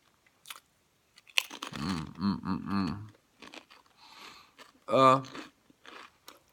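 Doritos chips crunch and are chewed close by in short crisp bursts, mixed with a voice talking over them.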